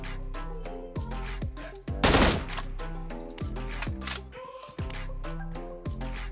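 Gunfire in the mobile battle royale BGMI rings out as a string of sharp, loud single shots and short bursts, spaced unevenly, with one dense crackling burst near the middle and no talking.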